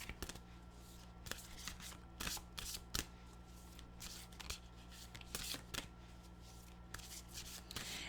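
Oracle cards from a Nature's Whispers deck are shuffled by hand in quick, soft riffling bursts with sharper flicks, quiet and close, with no voices.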